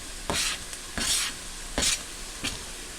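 Jalapenos cook in a pan on an electric stove, giving four separate bursts of sizzling and stirring, each lasting about half a second, close by over a quiet background.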